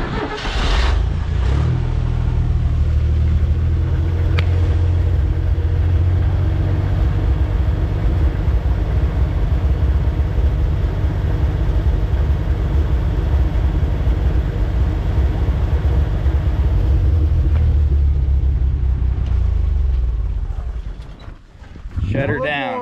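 An old Willys CJ5 Jeep engine cranks, fires and settles into a loud, steady, rumbling idle close by for about twenty seconds before being shut off.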